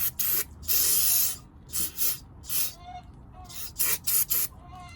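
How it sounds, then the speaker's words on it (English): Carb cleaner sprays into the filthy float bowl of a Toro lawnmower carburetor in short repeated hissing bursts, one longer blast followed by several quick spurts, close and loud with quiet gaps between. "So just take some carb cleaner."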